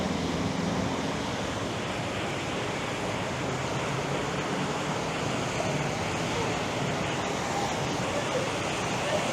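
A waterfall water feature at a Bangkok hotel on Sukhumvit Soi 11 pours in a constant dense rush of falling water, steady and fairly close, masking the street noise behind it.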